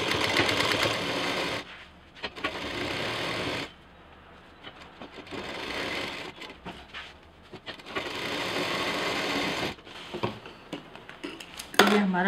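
A sewing machine stitches folded net along a zip, running in long steady bursts of rapid mechanical chatter with brief pauses, close and clear.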